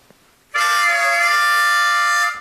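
A sustained, bright reedy harmonica chord blasts in after a half-second of quiet, holding steady and loud for nearly two seconds, mimicking a steam train whistle.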